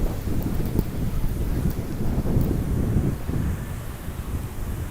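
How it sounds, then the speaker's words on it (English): Strong wind at a Fukuoka seaside park buffets the microphone in heavy, rumbling gusts that swell and ease over a few seconds, with no voices. "Crazy windy. Crazy wind."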